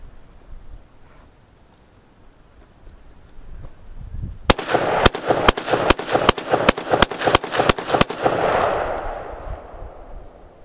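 An AR-15 rifle firing a string of about ten sharp, evenly spaced shots of steel-cased ammunition, loud and close, after a few quiet seconds, with echoing decay trailing the last round.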